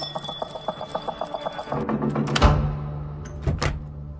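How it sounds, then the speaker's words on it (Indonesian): A perimeter alarm bell set up around a house near a forest rings in a rapid repeating metallic trill, then stops, followed by a few sharp knocks and clatters. "Helena mendengar lonceng parameter berbunyi"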